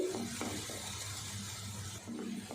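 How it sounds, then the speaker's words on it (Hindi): Chopped onions frying on low heat in a pan for a chicken masala karahi, giving a soft, steady close sizzle with faint stirring scrapes and no talk. "हल्की आंच पे हम 3 से 4 मिनट प्याज को भून लेंगे।"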